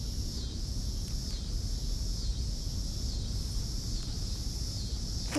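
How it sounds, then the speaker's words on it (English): Cicadas drone steadily in the background of a yard where tortoises roam, a continuous high buzzing that holds level throughout with a soft low rumble beneath and no talk. "Can hear the cicadas in the background."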